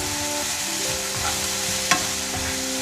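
Vegan pizza sauce with coconut liquid aminos is stirred in a pan on the stove, giving a steady low sizzle with soft scraping and one brief clink of the utensil.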